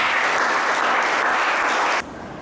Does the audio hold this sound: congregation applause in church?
yes